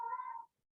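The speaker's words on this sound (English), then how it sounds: "Do you hear my deaf cat? He's howling." One short howl from a deaf cat, a steady, plaintive tone held for about half a second before cutting off into silence.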